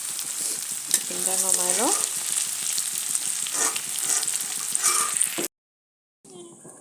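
Food frying in a pan for a Diwali home cooking session, a continuous bright close sizzle with spatula stirring clinks, then a brief pause before sizzling resumes as a voice speaks.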